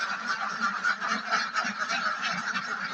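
Domestic ducks in their shed give a dense, continuous chorus of nasal honking quacks, many birds calling at once and overlapping without pause, close and fairly loud.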